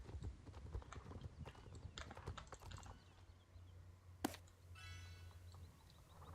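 Rapid clip-clopping horse hooves in the video game Star Stable Online trot along briskly, then fade, followed by a sharp knock and a faint rattling whinny-like sound.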